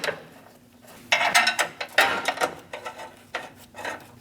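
Metal bolts being threaded and started by hand into the bumper trim piece of a Dodge Durango, giving several close, irregular scraping and clicking bursts between quiet gaps, no talk.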